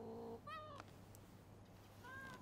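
A cat meows several times in short, clear calls, with a quiet steady hum underneath, in the video game Rise of the Ronin.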